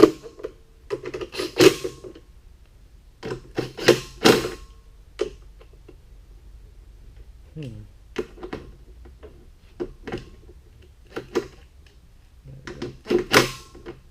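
Screws being snugged into metal threads while a new choke lever is installed on a Toro Z-Master mower, heard as scattered close ticks, clicks and small ratcheting taps in irregular bursts with quiet pauses between.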